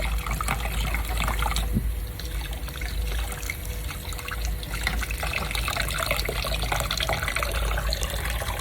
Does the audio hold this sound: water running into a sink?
yes